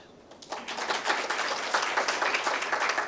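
Applause for young people at the launch of Generation Unlimited, a crowd breaking into brisk, dense clapping after a quiet start and holding steady at moderate loudness.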